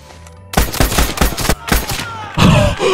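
Gunfire from a World War II shooter game: a rapid string of close, punchy shots, then a brief pause and a heavier, longer blast with a ringing tail.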